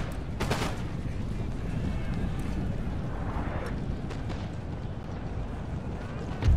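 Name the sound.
gunfire as soldiers open fire in battle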